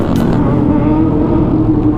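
A big motorcycle passes close on a Dallas city street, its loud, steady engine roar filling two seconds amid traffic noise.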